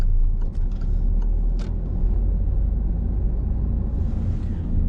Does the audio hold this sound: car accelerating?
yes